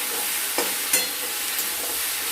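Chela fish curry sizzles in a pan as it is stirred after the lid comes off, with a steady hiss broken by a few sharp scrapes of the spoon, close and without talk.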